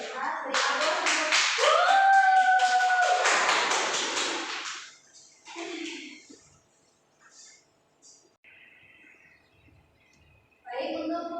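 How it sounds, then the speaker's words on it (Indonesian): A classroom bursts into loud applause for a few seconds, dense overlapping clapping with some voices, then fading into quiet scattered sounds and brief chatter. "Beri aplaus untuk"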